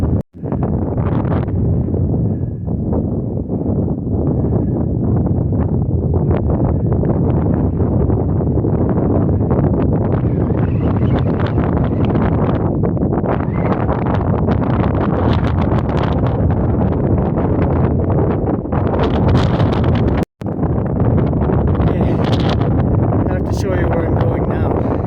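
Steady wind roars across an exposed mountain trail, a constant loud buffeting rush at the microphone through the whole stretch while someone talks over it.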